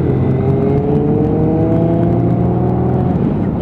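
A Lexmoto Michigan motorcycle pulls away from a road junction, its engine note rising steadily as it accelerates. The sound is close and continuous, with no talking.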